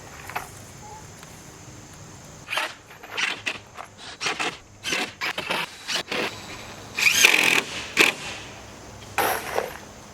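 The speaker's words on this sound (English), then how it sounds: "Now we're going to use 1 1/4 inch deck screws. Just tack this down every foot or so." A power drill drives 1 1/4 inch deck screws into floor boards of a wooden chicken coop, making repeated short, loud whirring bursts with brief gaps between them.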